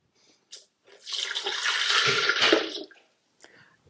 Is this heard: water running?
yes